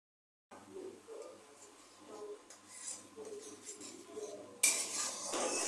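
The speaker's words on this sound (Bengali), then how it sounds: "মশলাটা একটু ভালো করে কষিয়ে নেব" Spices with salt, dried chilli and turmeric stir-fried in a pan for an egg and potato dish, with close, soft clinks and scrapes of a spatula, then a sudden louder sizzle near the end.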